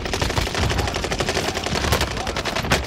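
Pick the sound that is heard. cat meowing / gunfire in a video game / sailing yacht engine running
gunfire in a video game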